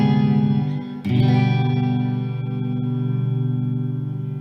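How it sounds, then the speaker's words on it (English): An electric guitar plays through an amp with reverb, sustaining a rich held chord, then a new strum around one second that rings out and decays slowly with a lingering wash. "It sounds like it, but it's just the guitar and the amp."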